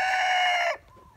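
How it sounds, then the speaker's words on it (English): A farm rooster gives the loud, close tail end of a crow, a sustained bright call that breaks off sharply, followed by quiet background. "that's my rooster"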